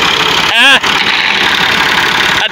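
A tractor engine runs in a steady, loud, close rumble, broken by a short rising mechanical whine near the start and a brief dip near the end.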